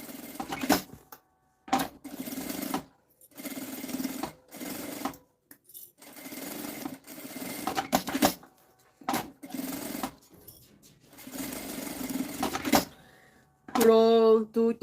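Domestic sewing machine stitching a close edge seam on a fabric pocket of a children's document holder, running in repeated short bursts with pauses between, loud and near, with someone talking in the gaps.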